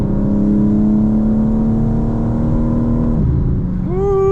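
A 2025 BMW M4 Competition xDrive on a night drive gives a loud engine note that climbs steadily, dips briefly as it shifts, then rises sharply again in a fresh surge of revs.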